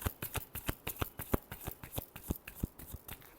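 Cards for a weekly rashifal reading are shuffled by hand, a quick rhythmic series of crisp riffling snaps up close, about four per second, with no talking.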